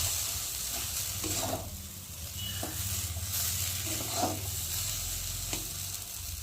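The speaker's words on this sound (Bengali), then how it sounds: "একটু ভালো করে নাড়াচাড়া দিয়ে নেবো, যাতে নুনটা ভালোভাবে সব জায়গায় লাগে" Mashed potato aloo chokha with salt is stirred in a pan, a steady scraping and soft sizzle with a few louder spoon strokes at irregular intervals, no voices.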